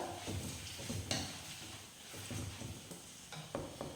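Mustard seeds with fenugreek powder and turmeric sizzling and crackling in hot oil in a pan, a soft, steady frying hiss with light stirring scrapes, close and faint, no talking.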